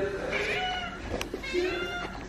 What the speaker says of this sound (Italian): Gatto Denver. Già te ne ho date due